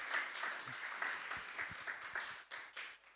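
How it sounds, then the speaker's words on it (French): A church congregation applauds for a pastor after a French sermon, a short spell of fairly faint clapping with distinct sharp claps standing out, fading in and out over a few seconds. "Merci de vos applaudissements"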